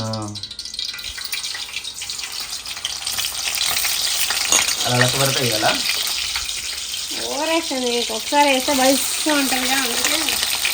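Bitter gourd fries in hot oil with a loud, continuous sizzle and crackle from its water content, while people talk over it.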